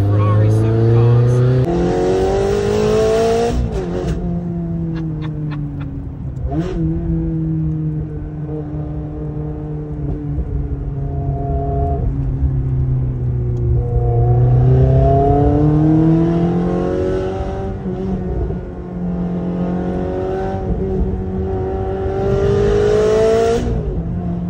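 A Ferrari 360 engine revs and pulls through the gears while driving, its pitch rising and falling over several up-shifts, loud and close, with someone talking over it much of the time.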